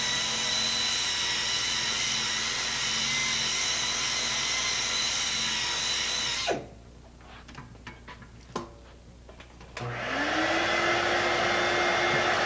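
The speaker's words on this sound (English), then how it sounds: "wheel on a Tech S1036 low RPM air buffer, mechanically buff the previously outlined area." A Tech S1036 low-RPM air buffer runs steadily with a loud, high pneumatic whine while buffing a tire's interior, then cuts out briefly to scattered scraping clicks before spinning back up.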